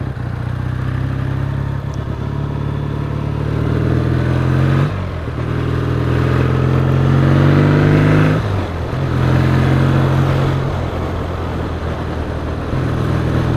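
A Triumph T140 motorcycle engine runs close and loud, its throttle opened in repeated smooth surges with short dips between, pulling cleanly without stumbling or misfiring; nobody speaks.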